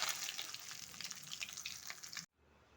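A fish head fries in oil with a steady, dense sizzle and crackle that stops abruptly near the end, leaving quiet room tone.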